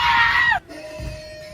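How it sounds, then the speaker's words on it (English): A rubber Screaming Chicken toy lets out one loud, shrill squawking scream that cuts off abruptly, followed by quieter background sound. "The Screaming Chicken Animals video"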